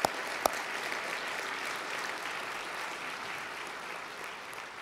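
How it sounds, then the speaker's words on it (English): A university campus event audience gives a round of applause for a student athlete, a faint, distant, even wash of clapping after two sharp clicks at the start. "I think a round of applause for Holton."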